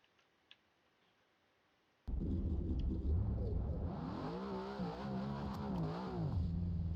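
A Mustang engine in BeamNG.Drive starts abruptly after two seconds of near silence, then holds a loud, steady revving drone whose pitch wavers up and down, with no talk.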